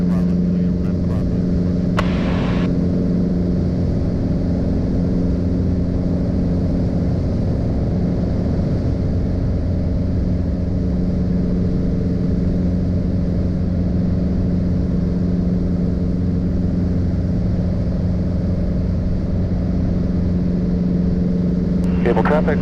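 A Piper Cherokee light airplane's engine drones steadily and loudly in flight, a constant close cabin roar with a strong low hum that never lets up.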